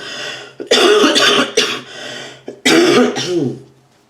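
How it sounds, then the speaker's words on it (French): A man with a cold gives two harsh, throaty coughs a couple of seconds apart, close and loud, with no talking around them. "Je vais tousser parce que j'ai un petit rhume d'homme."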